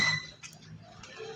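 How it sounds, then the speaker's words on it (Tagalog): A glass bottle clinks faintly in a few brief, light taps spread across a quiet moment, close by with little else around. "Tumutunog na yung bote guys."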